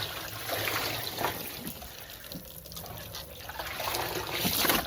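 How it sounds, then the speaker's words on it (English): Degreaser trickles and drips steadily off a bear hide as it is lifted out of the bath, a close, continuous wet splashing that swells slightly toward the end. "now we're gonna pull our bear hide out of the degreaser"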